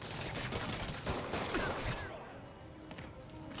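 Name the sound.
gunfire in a Spider-Man video game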